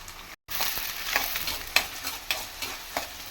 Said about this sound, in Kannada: ಈರುಳ್ಳಿ ಬ್ರೌನ್ ಕಲರ್ ಆಗಿ ಬೇಯಬೇಕು ಸ್ವಲ್ಪ